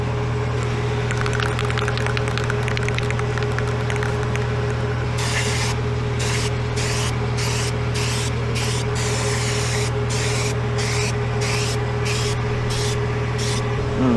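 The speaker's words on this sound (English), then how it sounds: "up here we're gonna lube up the chain with some chain lube" Chain lube sprayed onto a forklift chain in a rapid series of about ten short hissing bursts over a steady low engine hum, close and loud.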